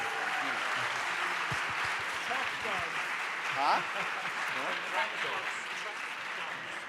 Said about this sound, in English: Big applause to the band.